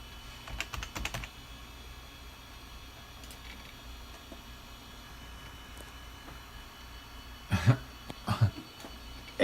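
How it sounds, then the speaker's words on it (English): Computer keyboard typing in short rapid bursts, a cluster of keystrokes near the start and louder clattering runs near the end, over a steady low room hum with no talk. "I'm typing."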